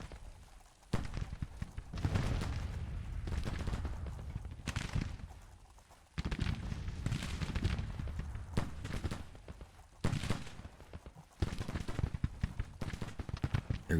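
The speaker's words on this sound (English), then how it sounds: "They got this battery right in front of them firing canister." An artillery battery firing canister during the Second Battle of Atlanta in a Civil War video game: repeated heavy booms and crackling volleys at irregular intervals, set against a continuous battlefield din.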